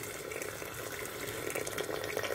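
Water pours into a pot of browned lamb feet being prepared for pressure cooking, a steady, fairly quiet splashing stream that runs continuously without talk.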